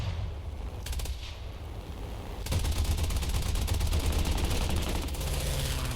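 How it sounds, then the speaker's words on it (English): Aircraft cannon and machine gun fire from a fighter plane in the video game War Thunder, starting with short sparse bursts and then breaking into a loud, continuous rapid stream of shots over a steady engine drone. "Oh, I'm out of cannon ammo."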